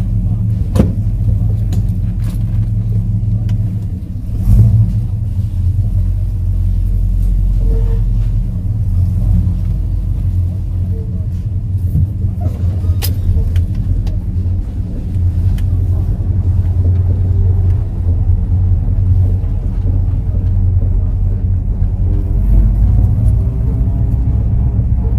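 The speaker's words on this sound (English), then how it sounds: "Bit of lifter noise there at the start, typical for a old 253, but she settles down fairly quickly." An old 253 V8 engine idles steadily with a low, continuous rumble, a light lifter tick at the start that fades as it settles, and no talk over it.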